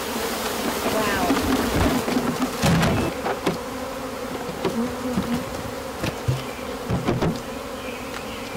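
Honey bees buzz densely and continuously around a package being installed into a hive at a bee farm, a close, steady swarm drone with occasional voices speaking over it.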